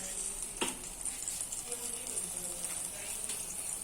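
A spice paste of ginger, garlic, cumin, tomato, green chilli, chilli powder, turmeric, salt and sugar sautés for veg ghugni, a soft, steady sizzle in the pan with occasional spoon scrapes and clinks.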